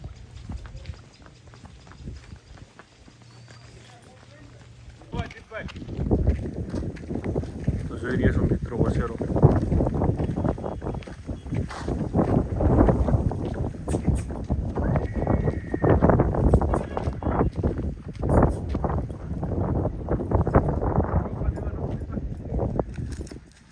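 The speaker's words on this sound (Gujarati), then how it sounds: "જો મિત્રો ઘોડો બહાર ખોલ્યો" A Marwadi stallion being led outdoors, its hooves clip-clopping in a steady uneven rhythm at close range after a quieter opening, with wind noise and people talking over it.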